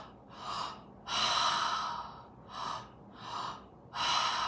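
Deep, audible breaths during a guided breathwork session, alternating long airy inhales and exhales in a steady rhythm, close to the microphone with no talking.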